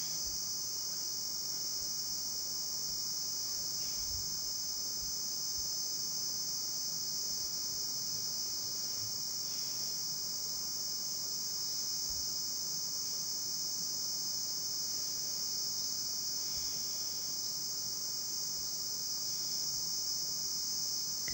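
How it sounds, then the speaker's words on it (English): Cicadas outdoors make a constant high shrill buzz that holds steady throughout, with a soft background hiss and no voices. "Can you hear the cicadas outside?"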